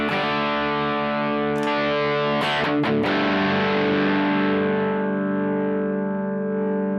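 Distorted electric guitar through a modeler's drive, a sustained chord ringing out with a few quick strummed hits, loud and close, no talk.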